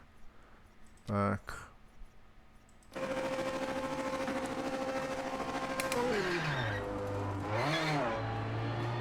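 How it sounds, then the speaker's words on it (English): After a short sharp blip, a GT3 racing car engine in a racing video game drones steadily, its pitch dropping as it slows and then climbing again as it revs. "This car sounds nice."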